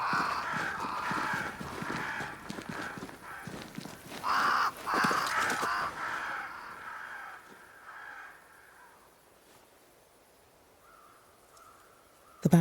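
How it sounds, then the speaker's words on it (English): Crows caw repeatedly in the video game Banishers: Ghosts of New Eden, with harsh calls overlapping in a loud cluster for the first several seconds before fading to near silence. "Crows. They flock to that great tree up there."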